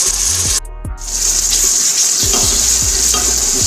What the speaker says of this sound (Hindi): मसाले को अच्छी तरह हम भून लेंगे।